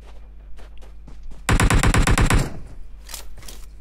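Rapid burst of automatic gunfire in PUBG, loud and close, about a second of dense repeated shots standing out against quiet game ambience with faint scattered sounds before and after.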